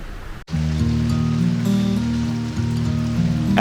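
Rain falls outside a window in Jakhama village, Nagaland, a steady, close, even hiss that runs unbroken after a brief opening, with a low humming drone beneath it.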